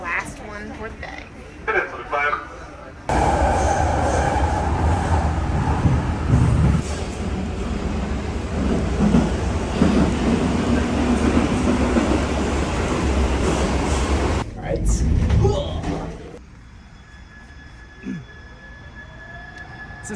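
A train rumbles steadily along the rails for a long stretch, loud and close, with voices briefly audible before and after the ride noise.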